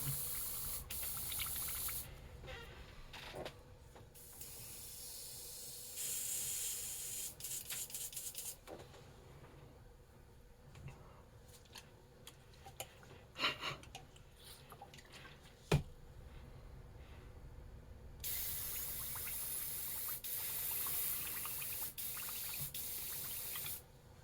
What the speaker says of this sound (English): Again, just clean out airbrush, bubbling that paint up.